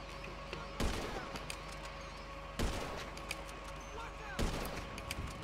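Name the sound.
gunshots in video game GTA 5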